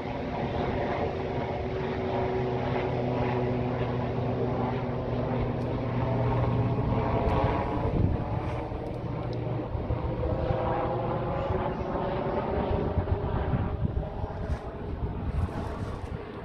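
A steady aircraft-like engine drone with rotor rumble fills the whole stretch, loud and continuous as it passes close overhead, with wind buffeting the microphone.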